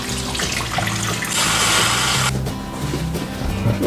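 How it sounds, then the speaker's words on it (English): Broth and milk pour steadily into a pan for a chicken pot pie, a continuous splashing liquid rush that swells midway and then eases into a lighter trickle, close by with no talking. "let's go ahead and add in the broth and the milk"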